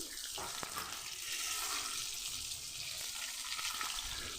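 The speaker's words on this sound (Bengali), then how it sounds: "মাছগুলোকে বেশ ভালো করে ভেজে নিচ্ছি" Pieces of rohu fish frying in hot oil, a continuous soft hiss and crackle that stays even from start to finish, fairly quiet, with no talking.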